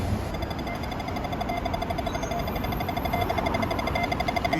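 A pedestrian crossing signal at a traffic light in China gives a rapid, steady run of electronic beeps. The tone repeats evenly against faint street ambience, with no one talking.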